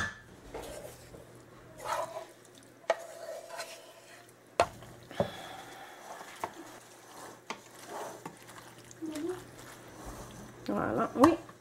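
A handful of spinach and a paprika-seasoned mixture are stirred in a frying pan, making a faint sizzle, soft squishing and occasional utensil clatter against the pan, mostly beneath a person talking.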